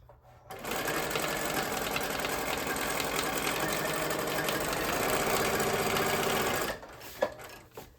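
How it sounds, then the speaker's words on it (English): A sewing machine runs steadily for about six seconds while stitching a junk journal cover, its fast even whirr starting and stopping abruptly, close and alone. "to not sew straight, you know, to kind of let the sewing machine kind of move organically and just let your hands guide it"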